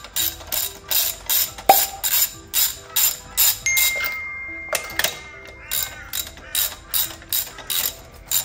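A ratchet wrench removing spark plugs from a Nissan X-Trail engine clicks in steady rhythmic bursts, close and crisp, with a brief metallic ring partway through.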